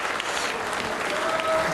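Dense crowd applause fills a lawn bowls women's singles final at the 2007 World Cup, a steady wash of clapping that stays loud and close throughout.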